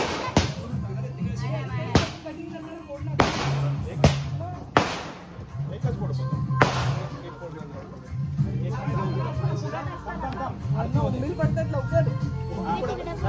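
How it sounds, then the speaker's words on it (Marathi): Several sharp firecracker bangs burst out in quick succession, then fewer later, mixed with lively chatter and crowd noise nearby. "नाही ते फटाक्याचं पडतं."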